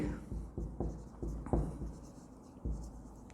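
A marker writing on a board during an accounting lesson, short scratchy strokes in an uneven rhythm, close and quiet, with no talking.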